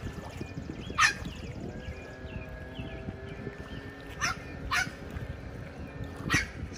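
A bird imitates a dog's bark, giving three or four sharp, squawky barks spaced a second or more apart over a low steady background.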